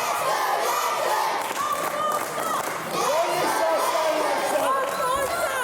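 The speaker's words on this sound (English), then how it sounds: "listen to the crowd really getting behind Legend there" A fight-night crowd cheers and shouts for a fighter called Legend, a continuous roar of many voices with rising yells and chatter, loud and sustained without a break.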